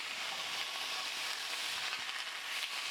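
Blackened fish frying in a pan before being flipped, a steady bright sizzle holding at an even, moderate level throughout with faint crackles and no voices.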